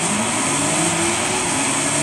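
Porsche Macan Turbo engine accelerating in Forza Horizon 5, a steady loud drone with rising tonal whine held throughout, alone without talk.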